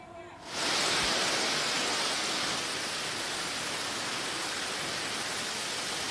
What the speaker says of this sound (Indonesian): hujan badai disertai angin kencang dan butiran es